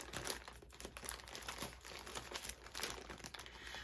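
Crinkly plastic mailer holding a scrap-fabric subscription bundle is cut open with scissors, giving steady close crumpling and crackling with brief snips and tears, no talking.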